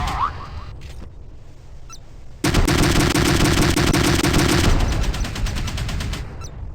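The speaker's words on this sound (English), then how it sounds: "Oerlikon GDF-4, 35mm. New VIP cannon." An Oerlikon GDF-4 35mm naval cannon in the Modern Warships video game fires one sustained, loud, rapid burst lasting about two seconds, preceded and followed by quieter game sounds.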